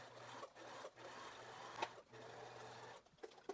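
A sewing machine stitches a seam on a pair of regular-fit pants, running in short, quick bursts separated by brief stops, close but fairly quiet.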